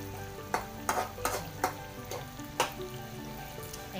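Food being sautéed in a pan, with steady sizzling broken by several sharp scrapes and clanks of a utensil stirring at irregular intervals, close and alone.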